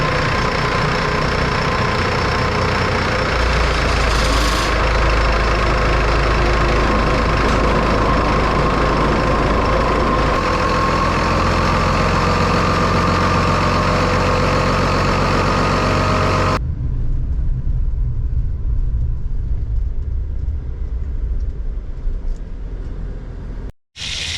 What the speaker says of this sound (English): now we got the motor running. Now I'm gonna engage the clutch, and we'll get that drive shaft turning.